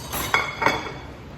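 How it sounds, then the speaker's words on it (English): Two light ceramic clinks ring out close by as a serving plate is lifted out in a home kitchen during bang bang shrimp preparation, with no talking. "We're just gonna get a plate for serving."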